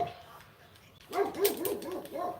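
A pet dog barks repeatedly in a house, giving a run of quick, fairly faint barks that starts about halfway through after a quiet stretch of room noise.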